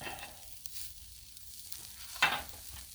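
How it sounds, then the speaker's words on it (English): Leftover chopped steak on a griddle gives a faint, steady sizzle after fajita sauce is added, with a brief louder hiss near the end. "We're going to warm it up with a little bit of fajita sauce"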